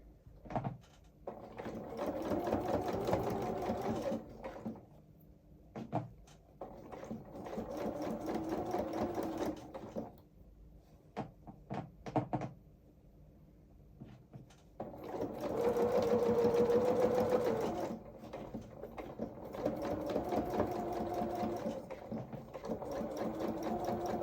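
A sewing machine stitching small doll-sized coveralls runs in several long, steady whirring bursts, close and clear, separated by pauses with handling clicks and occasional quiet talk.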